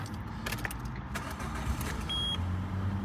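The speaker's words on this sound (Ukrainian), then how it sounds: "двигун працює ідеально" A 2009 Peugeot 206 engine idles with a steady low rumble, with faint clicks and a brief electronic tone partway through; no talking.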